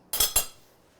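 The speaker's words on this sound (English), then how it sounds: "I'm gonna grab a spoon and I'm going to spoon it over." A metal spoon clinks twice against a bowl while scooping melted chocolate to spoon over homemade Mallomars with set marshmallow, two close, bright taps in quick succession followed by quiet.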